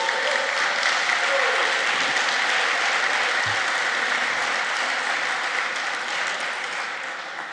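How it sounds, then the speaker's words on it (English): An awards-show audience applauding the evening's sponsors, a sustained, even roar of clapping from a crowd that holds steady for several seconds and eases slightly toward the end. "so please give them a round of applause"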